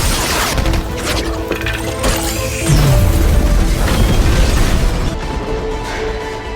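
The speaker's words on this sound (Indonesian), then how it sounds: "Baku tembak di mana-mana." Dense, chaotic shootout from an action film scene set during a large attack on a police station, with continuous crashes, bursts and booming impacts layered over a heavy low rumble, loud and busy throughout.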